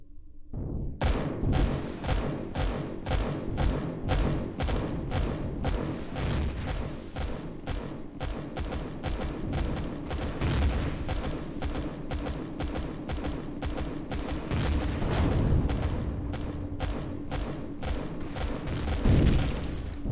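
Mounted weapons on a craft in Empyrion Galactic Survival pound a generator in a long, steady barrage of rapid booming shots lasting the whole stretch, dense and loud with no pauses.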